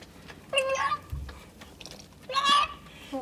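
A newborn goat kid bleats during a birth, two short high cries about two seconds apart, fairly close and clear over quiet background rustle.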